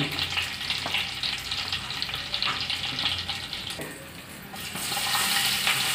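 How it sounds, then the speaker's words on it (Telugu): Cinnamon and bay leaf fry in hot oil with a constant hiss and crackle, dipping briefly and then swelling louder again, close by with no talking. "ఆయిల్ వేడెక్కాక అందులోకి చెక్క మరియు బిర్యానీ ఆకు పెద్దగా ఉంటే కట్ చేసి వేసుకుందాం."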